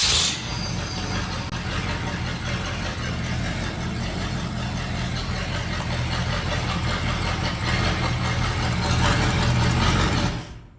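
The engine of a 1977 GMC K35 truck runs steadily after the oil pump drive shaft fix, with no rattle, a continuous close mid-pitched idle with a dense, even roar throughout.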